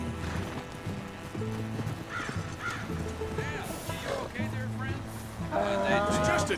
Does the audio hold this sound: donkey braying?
yes